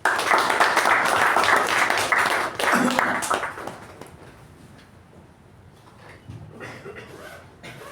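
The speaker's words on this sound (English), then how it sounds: "Toastmaster Shivaprasad, with a thunderous round of applause." Loud audience applause at a Toastmasters meeting welcoming the master of ceremonies, dense clapping for about four seconds that then dies away into quiet room noise with a few faint movements.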